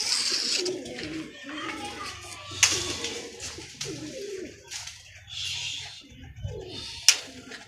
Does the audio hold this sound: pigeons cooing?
yes